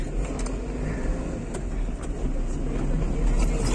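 Steady low engine and road rumble from inside a moving car on a mountain ghat road, continuous and fairly loud, with faint clicks and rattles on top.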